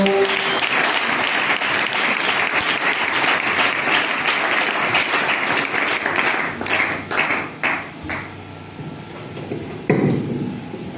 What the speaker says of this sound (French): est-ce qu'on peut l'accueillir avec nos acclamations?